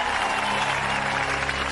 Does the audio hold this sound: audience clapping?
yes